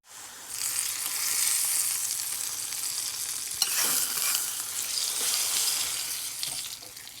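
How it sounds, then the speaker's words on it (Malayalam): Spice powder stirred and frying in hot oil for a Kerala salad curry, a steady close sizzle with scraping strokes of the spoon, one brief louder clatter midway. "ഇത് നന്നായിട്ട് ഈ എണ്ണയിൽ കൂടെ മിക്സ് ചെയ്യാം"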